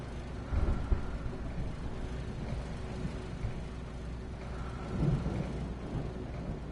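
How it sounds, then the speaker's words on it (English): Thunderstorm in the video game Alan Wake Remastered, with a steady wash of rain and low rumbling swells, the loudest near the start and again toward the end, with no voices. "The storm raged on as the Anderson brothers walked unsteadily"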